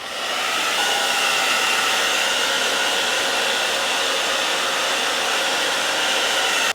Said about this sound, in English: So I'm going to go ahead and blow dry it for 30 seconds.